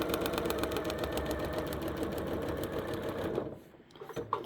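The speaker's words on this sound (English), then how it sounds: "And then just take it right over your sewing machine." A sewing machine stitching a quilt seam runs in a fast, steady mechanical rhythm close up, then stops abruptly near the end.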